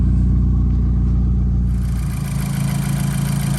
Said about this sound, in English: It's got a nice little burble, sports exhaust.